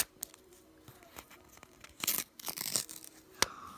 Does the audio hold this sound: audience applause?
no